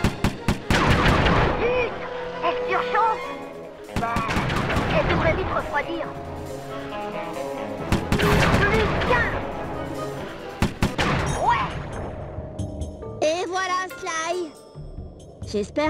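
Rapid bursts of gunfire from an overheating firearm in the video game Sly 3, several loud sharp volleys spaced a couple of seconds apart, ending with a softer jingling tail.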